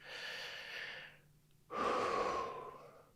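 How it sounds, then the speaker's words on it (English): One slow, deep breath: a long airy inhale, a brief pause, then a fuller, louder exhale, close and intimate with no talking. "Nice big deep breath"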